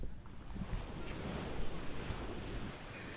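Ocean waves wash steadily onto the shore at a beach resort, a continuous surf roar with wind buffeting the microphone and no voices.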